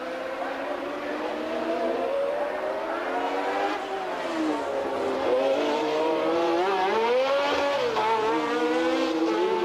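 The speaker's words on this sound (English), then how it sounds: "There's Pironi in the Ferrari, the Frenchman, his first race in a Ferrari." Formula 1 race cars at the 1981 US Grand Prix, including a Ferrari: high, wailing engines drone loudly and continuously, pitch rising and falling as the cars accelerate and brake through the circuit, with no talking.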